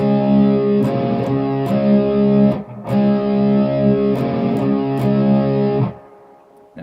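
Distorted electric guitar power chords strummed in a repeating rhythmic pattern, loud and close, with short muted breaks between groups of strums.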